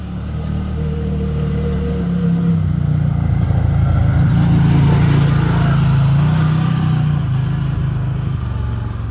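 Arctic Cat 1000 off-road vehicles run with a loud, steady engine drone and rumble nearby, holding fairly constant and swelling slightly as one passes.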